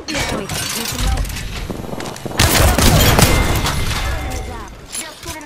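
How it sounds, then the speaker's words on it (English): Heavy gunfire in a video game, with dense bursts of shots and crashing impacts that swell and linger loudly across the whole stretch, close and chaotic. "Some drunk is shooting at me!"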